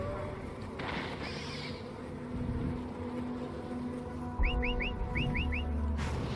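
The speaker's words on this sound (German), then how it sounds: "Wer hat denn da gepfiffen?" A short series of rising whistles sounds in the video game Far Cry Primal, about six quick chirps in two groups near the end, over a low ambient rumble and soft game noise.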